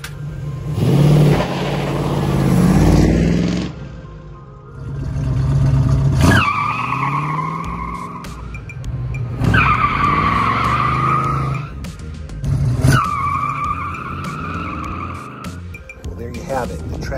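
A 1967 Camaro fitted with traction bars leaves rubber in repeated launches, each bringing loud, sustained tire squeal and engine roar, with pauses between runs and voices talking nearby.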